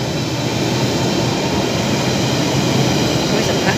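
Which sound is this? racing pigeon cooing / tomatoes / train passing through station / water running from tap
train passing through station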